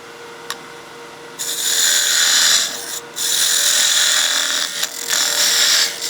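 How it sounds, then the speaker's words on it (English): A lathe tool parts off a turned wooden snowman hat, a loud, steady cutting whir against the spinning wood, with brief breaks between passes. "We'll bring our tool rest back into position and we'll part the hat off."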